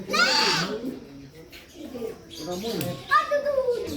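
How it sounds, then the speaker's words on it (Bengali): Several birds, including lovebirds, chirp and squawk close by in short, uneven calls, with a voice murmuring faintly beneath, in Darjeeling. "অনেক রকম প্রজাতির পাখি এখানে"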